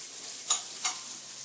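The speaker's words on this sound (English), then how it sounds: "We have our meat sauteing in there, and they're coming all together here." Meat sautés in a pan with a soft, steady sizzle and two quick stirring scrapes over a short moment, no talking.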